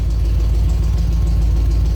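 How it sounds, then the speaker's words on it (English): A revived, crusty Ford F-100 with a five-speed holds a steady idle, its deep low rumble continuous and even throughout, close by with no talking. "Yep, she's holding an idle okay now."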